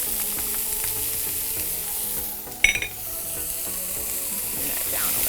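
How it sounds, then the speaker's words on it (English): Onions and garlic sauté in a hot pan with a steady close sizzle and crackle, plus a brief clatter of a utensil partway through. "And then we'll add the onions and the garlic. And we'll saute that for about 3 minutes."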